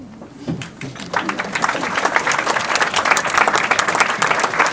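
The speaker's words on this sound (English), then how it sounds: "you need to give yourselves a round of applause for being here tonight" An audience at an evening Catholic, Anabaptist and Anglican panel event gives itself a round of applause, a dense crowd clapping that swells in after about a second and stays loud and steady, with faint voices mixed in at the start.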